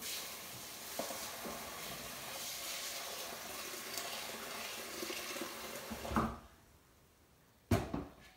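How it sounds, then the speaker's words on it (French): Hot water runs steadily from a faucet onto basmati rice in a bowl, a continuous close splashing rush that stops abruptly, followed by a sharp clink. "c'est du riz basmati, je vais le mettre à tremper dans de l'eau chaude"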